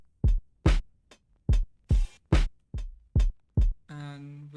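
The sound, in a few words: beat drums without processing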